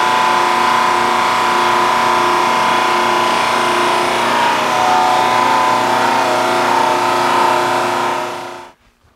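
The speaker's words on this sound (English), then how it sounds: "I could then feed this through the drum sander" A drum sander grinds steadily across a live edge wood slab with a loud, continuous whirring hum that holds even for several seconds, then cuts off abruptly into quiet.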